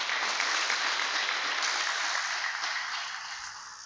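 An audience at a sports awards ceremony claps steadily, a dense continuous wash of applause that holds for several seconds and tapers slightly toward the end.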